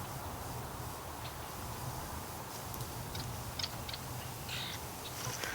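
Crows caw now and then over a steady, fairly loud wash of background noise near a swamp, with faint ticking and rustling mixed in and no talk.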